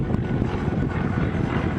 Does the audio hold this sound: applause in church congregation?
no